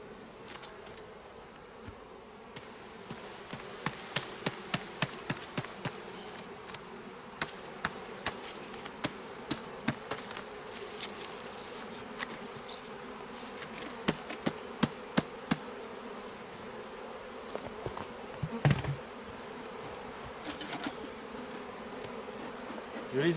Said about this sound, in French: sous le couvre-cadre, il y a même énormément d'abeilles